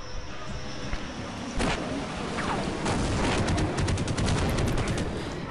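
Rapid bursts of gunfire in the video game Half-Life crackle over a dense, loud backdrop of game music and noise, with quick repeated shots toward the end.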